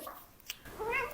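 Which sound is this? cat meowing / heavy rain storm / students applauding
cat meowing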